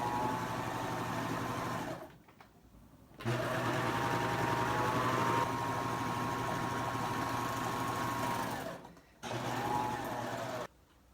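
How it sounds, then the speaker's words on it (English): A serger sewing machine stitching fabric and trimming it, a loud, close, steady mechanical whir in long runs that stop briefly twice before starting again. "So I'm going to let it stitch, and I'm going to cut a little bit off."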